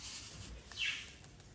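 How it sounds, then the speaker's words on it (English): A single brief, high bird chirp rings out faintly amid quiet outdoor ambience. The birds are outside and no one speaks. "Do you hear those birds?"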